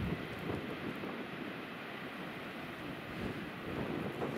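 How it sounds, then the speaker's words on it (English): Strong mountain wind roars steadily against the microphone on the Middle Teton while skiing, a loud, unbroken rumbling buffet with slight surges and no voices. "I'm sure you can hear the wind and see it."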